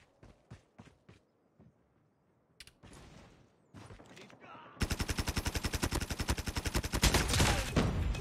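Bizon submachine gun in Call of Duty Mobile: scattered single shots and short bursts give way to a sustained, loud rapid-fire stream lasting several seconds, with mechanical clicks before it.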